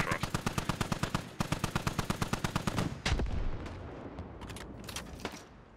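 Rapid bursts of heavy machine gun fire in the tactical shooter Squad, a loud, evenly paced string of shots that breaks briefly and resumes, then a heavy blast and fading echo with scattered distant shots.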